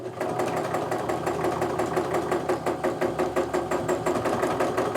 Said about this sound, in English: I'm actually just going to continue quilting off into the batting